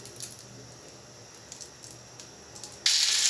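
Marinated fish slid into hot oil for crisp frying starts a sudden, loud, sustained sizzle after a stretch of quiet kitchen hiss.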